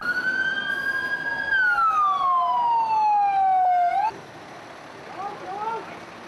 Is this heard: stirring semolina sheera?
no